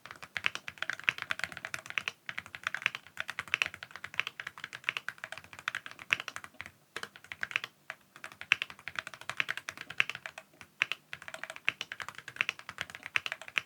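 Close, steady clatter of a custom-built mechanical keyboard being typed on rapidly, with brief pauses between bursts and no voices.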